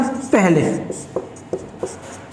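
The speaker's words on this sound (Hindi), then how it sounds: "यहां पर लीजिए मैंने लिख दिया" A marker or chalk writing on a board in a classroom lecture, with a few short scratching strokes that follow a brief burst of a man's speech.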